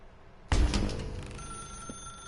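A telephone bell rings in The Stanley Parable, one loud burst that starts suddenly and then fades into a steady sustained tone, with no talk over it.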